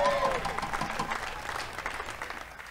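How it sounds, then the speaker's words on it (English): Audience applause at a bluegrass festival set, steady clapping and crowd noise filling the whole moment, with a voice audible near the start. "And another big round of applause"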